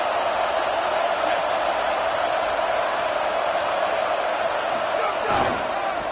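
Stadium crowd roaring in a College Football 27 game, Ohio against Indiana, a steady loud broadband wall of cheering that barely dips, with a faint swell near the end.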